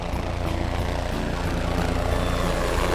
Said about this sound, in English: I hear a helicopter approaching!